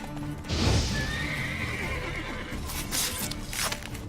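A horse whinnies loudly near the start in The Witcher 3: Wild Hunt, then hooves clop and shuffle beneath game ambience, with a few sharp bursts of noise later.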